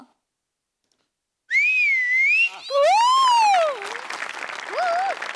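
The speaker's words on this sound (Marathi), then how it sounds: "बाई खरी शिट्टी वाजवते" A woman whistles a bright, wavering melody in a few long swooping phrases, loud and close, on a comedy stage show, with a burst of applause and cheering behind the later notes.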